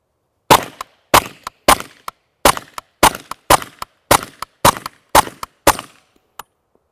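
Suppressed .22 Long Rifle gunshots fired through a Dead Air Ghost silencer, ten sharp close reports in a quick, fairly even rhythm with a faint trailing click, and no talking.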